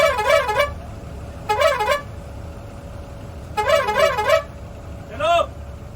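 A bus horn honks four times in short bursts of uneven length, loud and close, with quiet road noise between the blasts and voices nearby.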